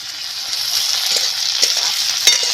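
Garlic, ginger, turmeric powder and chopped tomato fry in a pan with a steady, close hiss and faint stirring clinks, making a continuous sizzle for a couple of seconds with no talking.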